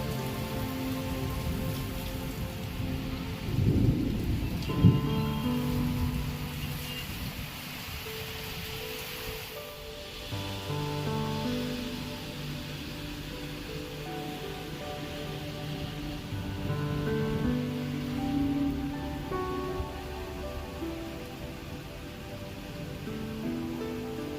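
Heavy rain pours down steadily on surfaces nearby, a dense continuous wash of drops with a deeper swell around the fourth and fifth seconds, with no voices.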